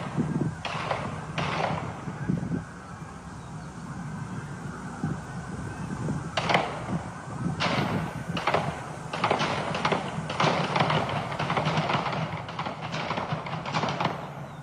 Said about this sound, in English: You hear the birds tweeting in the background along with gunfire?